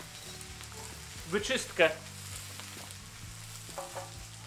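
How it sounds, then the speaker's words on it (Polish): Food frying in a pan over an open wood fire, a steady soft sizzle running throughout with a few louder bursts of stirring or scraping, brief speech in between. "Jeżeli zacznie się nam to za mocno smażyć"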